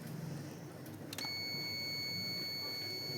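A multimeter in continuity mode sounds a steady high-pitched buzzer tone that starts about a second in and holds while testing an inverter air conditioner's circuit board, clear and close with a faint click at the onset.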